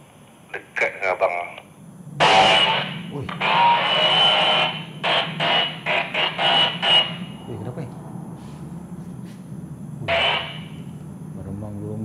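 Walkie-talkie at night at a cremation site giving off several bursts of harsh static and strange radio noise, close by, with someone speaking briefly between the bursts.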